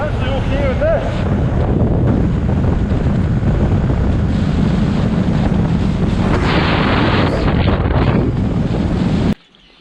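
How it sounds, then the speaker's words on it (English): Strong wind buffets the microphone in the Scottish countryside during a Honda C90 motorcycle trip, a loud continuous roar with gusts that holds steady for about nine seconds before dropping away abruptly at the end. "It's a good run of this wind usually."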